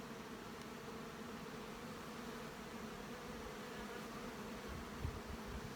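Honey bees hum steadily around an open wintered nuc colony during a hive inspection, a constant soft drone close by with no voices.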